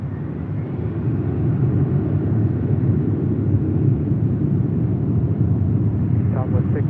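An airliner at LAX on takeoff from runway 24 left, giving off a steady, loud, low rumble of jet engines that swells after the first second and holds.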